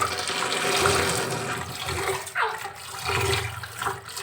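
Water runs and splashes steadily at a sink as things are washed, heard close with a few gurgling surges and no talking.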